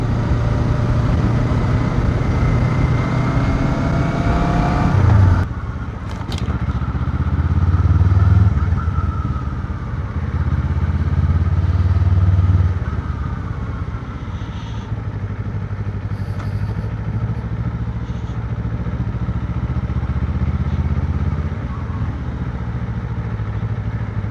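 A Kawasaki Ninja 500 with its stock exhaust on the move, a steady mid-pitched engine drone rising and falling through gear changes, a brief clunk near the start, wind noise over the ride, no talking.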